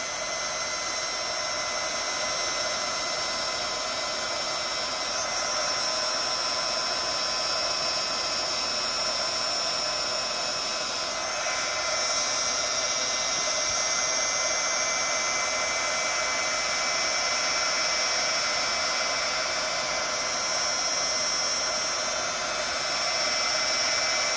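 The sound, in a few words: heat gun blowing hot air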